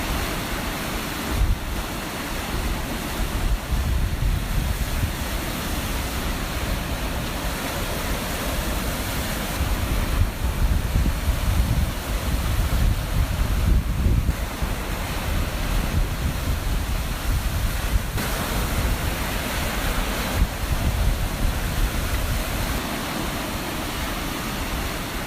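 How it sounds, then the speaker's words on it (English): Storm-driven waves on Lake Michigan crash against a lighthouse, making a continuous roaring wash of surf and wind that stays loud and steady throughout with only slight swells in intensity. "Huge waves crashed over the lighthouse during Storm Garrett"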